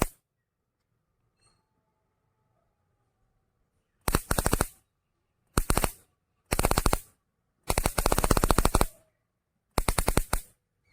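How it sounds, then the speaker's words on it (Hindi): A homemade robotic toy bomb fires crackling firecracker-like bursts from a high-voltage generator: five loud, rapid rattling volleys, each about half a second to a second long, separated by silence. "तो वहाँ से पटाखे का साउंड निकलता है।"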